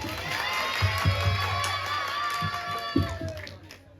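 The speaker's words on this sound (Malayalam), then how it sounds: "നല്ല കൈയടി കൊടുത്തല്ലായിരുന്നു" An audience at a public event with Fahadh Faasil breaks into cheering and shouting, a short lively crowd roar with some clapping, heard at a distance and fading out toward the end.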